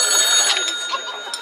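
A telephone rings with a continuous high electronic trill that holds steady for a short moment at moderate loudness.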